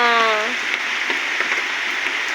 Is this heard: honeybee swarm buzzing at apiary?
no